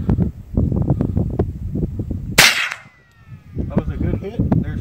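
A .22 rifle shot hits a sensitive Tannerite target outdoors: one sharp, loud crack stands out between bursts of rustling and wind noise, followed by a brief lull.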